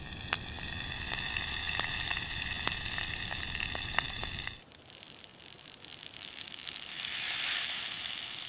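Onions sizzle and crackle in hot oil in a miniature pot on a wood-fired clay stove, with sharp pops for several seconds, then the frying grows softer and duller as the food is stirred.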